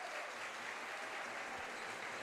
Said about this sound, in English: the crowd starting to get amped up here at Wilson Gymnasium